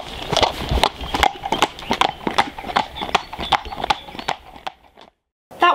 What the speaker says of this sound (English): Giddy up, Mojo.